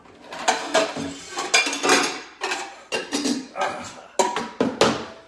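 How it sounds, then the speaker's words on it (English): A metal pasta pot being pulled out among other pans, with a rapid series of loud, close clanks and clatters of cookware knocking together, no speech. "let me get my pasta pot out"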